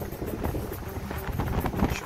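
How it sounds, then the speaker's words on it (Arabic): Gusting wind during a sandstorm roars continuously in a steady low rumble with buffeting noise against the microphone, loud and close throughout. "زوبعة ديال الرياح."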